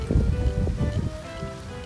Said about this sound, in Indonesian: Anginnya, wow.